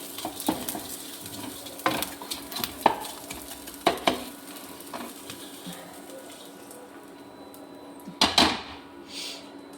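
Edible gum (gond) roasting in a little ghee in a pan, a soft steady sizzle broken by several sharp spoon scrapes and clanks against the metal, with no talk.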